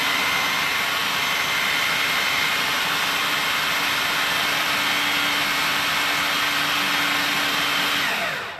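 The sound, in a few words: food processor blending cauliflower mash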